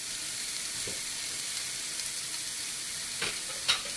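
Greek potato hash frying in a pan gives a steady, close sizzle that runs the whole time, with a few faint clicks of a utensil near the end and no talking.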